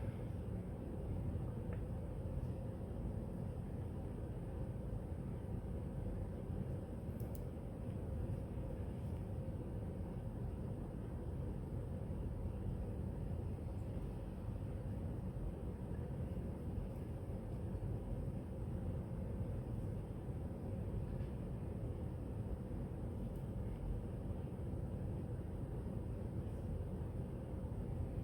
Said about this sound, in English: I got my window open. It's raining out.